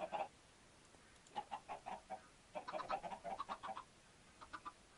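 Chickens clucking in Minecraft, a string of short, fairly faint clucks that come in bursts with gaps between them, and there is no talking.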